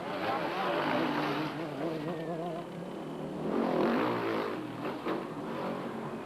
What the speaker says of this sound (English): The quad bikes was a feast of really tight racing as Corey Swart steamed by